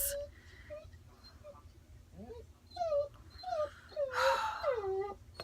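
A pit bull Rottweiler mix dog whimpers and whines in a run of high, tonal yips that grow louder toward the end, with a person talking in the background.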